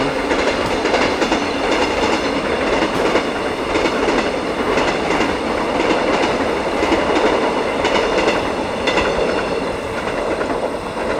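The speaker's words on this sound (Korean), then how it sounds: "춘천으로 가는 기차는" A passenger train on the line to Chuncheon rolls past close by in the countryside, a steady loud roar with rhythmic clickety-clack of wheels over rail joints and faint squeal, holding constant with no voices.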